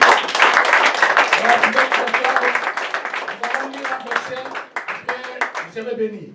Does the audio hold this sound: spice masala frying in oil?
no